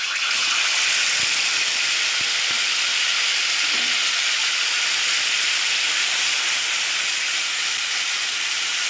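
A radhuni and cumin spice paste fries in hot white oil in a loud, continuous hiss of sizzling that holds steady throughout.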